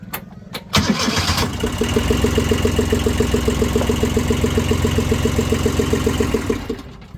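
A Kubota D750 Japan-surplus diesel engine meant for a boat cranks briefly, catches, then runs at a loud, close, steady idle with a rapid even knock before dropping away at the end.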